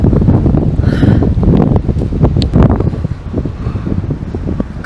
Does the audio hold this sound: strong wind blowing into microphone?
yes